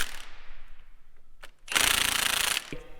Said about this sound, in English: The impact gun didn't have enough torque to take those bolts off